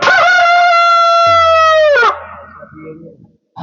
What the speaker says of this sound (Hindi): आप लोग जानेंगे मुर्गा बोलत कब